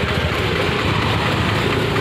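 A Farmtrac three-cylinder tractor idles at a tractor market in Fatehabad, Haryana, giving a steady, close, low engine rumble with no change in pace and no talking.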